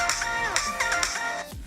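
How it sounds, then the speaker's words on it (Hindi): An iPhone rings with a newly set ringtone on an incoming call, a bright melodic tone of repeated rising and falling notes playing loudly and alone, cutting off near the end. "यहाँ मेरे फ़ोन की लग चुकी है नई रिंगटोन"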